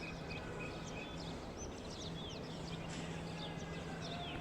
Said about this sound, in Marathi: मस्त पक्ष्यांची किलबिल सुरू आहे